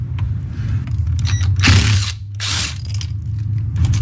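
A T20 Torx screw is backed out of a yoke steering wheel, with two bursts of ratcheting and hissing mechanical noise and small clicks, close and fairly loud, over a low hum.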